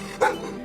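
A Bhote (Tibetan) dog, a breed raised in cold mountain country, gives a single short, sharp bark close by, with no talk over it.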